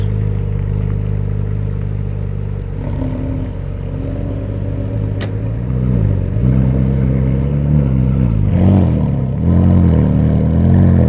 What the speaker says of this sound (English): Off-roading a Carrera GT in a Special.